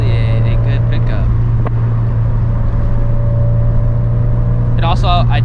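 Inside a turbocharged Scion FR-S cruising along, a constant loud exhaust drone blends with heavy wind roar, steady throughout with a brief tonal flutter near the end.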